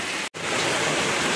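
Heavy monsoon rain pours down at a farm, a steady loud broadband hiss filling the scene, with only a momentary dropout near the start and no voices.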